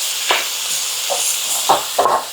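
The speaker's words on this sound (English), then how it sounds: "I want to stir that around. Oh, that hamburger's coming along beautifully" Hamburger meat frying in a pan and being stirred, a steady sizzle with a few brief scraping stir strokes near the end, close and fairly loud.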